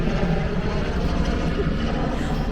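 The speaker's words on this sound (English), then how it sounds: "There's a helicopter." A continuous low engine drone of a helicopter passing overhead, steady and fairly loud with no talking.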